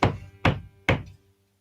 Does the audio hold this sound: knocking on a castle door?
yes